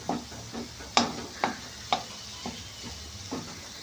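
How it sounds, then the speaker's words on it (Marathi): Paneer being mashed and cooked in a hot pan for masala pav or dabeli, with a soft steady sizzle under a series of sharp spatula taps and scrapes about half a second apart, close and clear. "छान आपण हे बारीक करून घेऊ पनीर ह्याच्यामध्ये."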